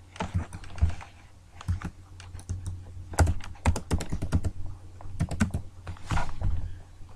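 Someone types a password on a computer keyboard, rapid close clicking keystrokes in uneven bursts with brief pauses, fairly quiet and alone.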